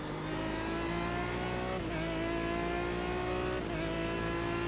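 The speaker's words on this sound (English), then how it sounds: "I just allow myself to enjoy that V12 howl" Loud, continuous V12 engine howl from a Proto GT race car in iRacing at Spa, holding a steady high-revving drone with brief dips around gear changes, close and alone with no talk.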